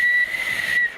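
A person whistles a single sustained, piercing note, imitating a referee's final whistle at a football match. It is loud and close, about one second long, and stands alone without speech.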